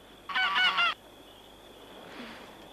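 A single loud honk from an old goose in an animated series, a short series of nasal calls lasting under a second, followed by quiet background.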